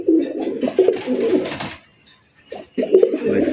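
A male pigeon cooing close by, with several deep throaty coo phrases, a short pause and then another coo.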